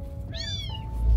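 A cat gives a single clear meow up close, rising and then falling, over a low background rumble.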